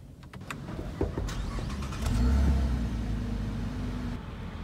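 A V6 muscle car engine starts with a low, deep rumble that settles into a steady, fairly loud idle after a few seconds of faint mechanical noise.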